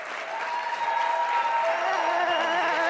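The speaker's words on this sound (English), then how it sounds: "So, I'd like you to give a big round of applause to Laura Silva." A live audience applauds a speaker's introduction at a self-development talk on flow states, the clapping loud, dense and sustained throughout, with scattered cheers.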